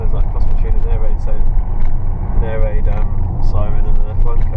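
A 2015 Tesla Model S P85 electric car accelerates on the road in Bath, UK, giving a loud, continuous low drone and road rumble, with people talking over it throughout.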